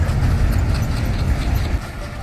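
A train rumbles past close by with steady low-frequency rolling noise that cuts off near the end, with no talking.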